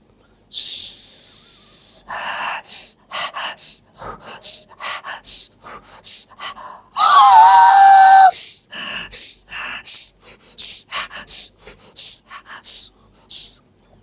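A mimicry artist imitates a coal-fired steam locomotive: rhythmic hissing puffs in quick succession, with a long whistle-like hoot in the middle, then more chuffing bursts.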